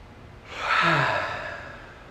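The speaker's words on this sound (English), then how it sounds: "It was absolutely an authentic yawn that I facilitated" A human yawn demonstrated during a breathing lesson, one long drawn-out breathy exhale with a low voiced tone rising then fading slowly, close and fairly quiet, with no talking.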